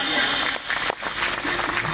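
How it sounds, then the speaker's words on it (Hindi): An audience at a religious katha gathering in Parlika claps in a thick, steady burst of applause, fairly close and continuous, with a voice faintly underneath. "वाह जी वाह, तालियां।"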